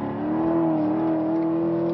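A Corvette V8 engine holds a steady, close, throaty drone with a slight dip and recovery in pitch while driving, alone without talk.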